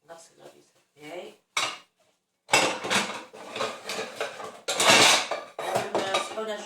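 Plates, pots and cutlery clatter and clink while being washed in a home kitchen, with loud, irregular knocks and scrapes close by after a few quieter clinks at the start.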